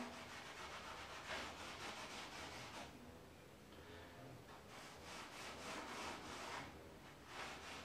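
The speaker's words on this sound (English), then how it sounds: "I get my rag wet with some stain, and it's just a matter of simply rubbing it in and on." A damp rag rubs wood stain into rough pallet boards for a planter, giving a steady, faint, close scrubbing swish in repeated back-and-forth strokes with no voices.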